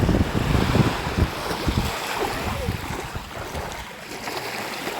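Sea waves slosh and wash nearby amid wind buffeting the microphone, the churning water gradually easing toward the end.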